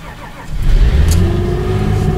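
A Nissan car engine cranks and catches in wind, then settles into a steady, fairly loud idle with a low rumble.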